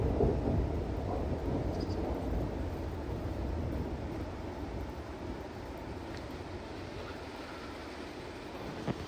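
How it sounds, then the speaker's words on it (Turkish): Steady rain hisses and patters over a low, rumbling background, soft and continuous throughout, falling in mountain country at Ala Archa near Bishkek. "Çok güzel yağmur yağıyor."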